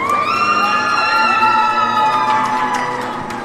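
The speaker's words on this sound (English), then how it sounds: "Crowd showing their support for Noah Farberman." Arena crowd cheers and whoops at a women's college ice hockey game after a sophomore's first goal of the season, a loud sustained roar with shrill high voices that slowly fades toward the end.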